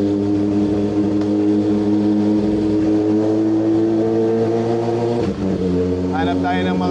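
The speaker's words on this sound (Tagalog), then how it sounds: "Nag-alarm pa nga yung kotse dahil sa ingay ng tambucho natin." A Kawasaki ZX6R motorcycle idles steadily while warming up, its engine and loud exhaust giving a sustained droning rumble. A brief dip near the end breaks the tone before the revs settle again.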